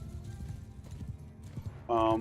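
Mounted horse archers' horses in the game Bannerlord clop in quick, overlapping hoofbeats, with a short whinny-like tone at the end.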